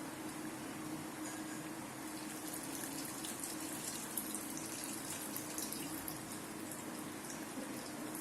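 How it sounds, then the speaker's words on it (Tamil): Tamarind water poured into a pot of boiling kara kulambu, a steady soft splashing pour that runs continuously at low volume with no talk. "ஸோ இப்போ வந்து கரைச்சி வச்சு அந்த புளி தண்ணியை அதில் ஆட் பண்ணுறோம்."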